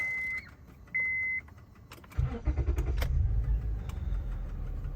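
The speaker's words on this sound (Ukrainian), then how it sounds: "Трьохлітровий мотор, працює гарно" A three-litre car engine with a five-speed automatic starts after a couple of short beeps, then settles into a low, steady idle rumble close by, with no talk.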